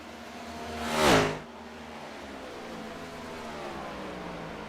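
Simulated NASCAR stock cars in iRacing at the Brickyard 400 roar past in a single loud, rising-and-falling engine pass about a second in, followed by a steady low engine drone.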